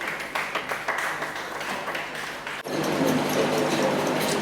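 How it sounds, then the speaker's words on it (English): Audience applause at a dinner party, a dense crowd of claps filling the room, rising slightly in the second half and continuing steadily, with no voices above it. "let's give him a round of applause"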